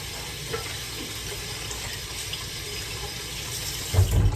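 A kitchen tap runs steadily while hands are rinsed clean after coating cut-up sausage during barbecue prep, a continuous close splashing hiss with a brief louder gush near the end.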